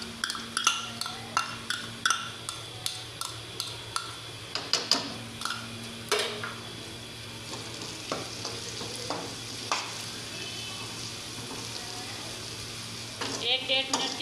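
Ginger paste sizzles in a pan of mutton qeema, a steady frying hiss under a run of sharp, regular spoon-on-pan stirring clicks and scrapes at close range, with no voices.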